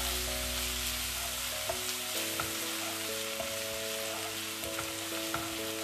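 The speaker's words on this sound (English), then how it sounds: "our jeera has started to splutter." Cumin seeds with grated ginger and chopped garlic sizzle in hot oil while a dhaba-style dal tadka is cooked. The frying hiss is steady and close, with faint pops and occasional stirring scrapes, and there is no talk.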